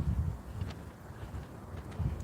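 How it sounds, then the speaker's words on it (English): Wind gusting along the Schuylkill River, a low, rumbling buffet against the microphone that swells at the start and end of the clip, close and fairly steady, with no talking. "Got a pretty big gust."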